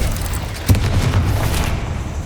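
An explosion spell goes off in the Hogwarts Legacy video game, a single loud, deep boom with a rumbling tail that fills the short clip.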